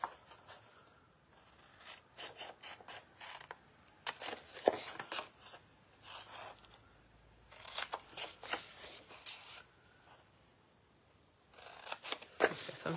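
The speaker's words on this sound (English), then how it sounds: "Okay, so I'm just cutting on the score lines." Scissors cut along the score lines of a paper envelope in bursts of crisp snipping and rustling paper, close and fairly quiet, with short pauses between the cuts.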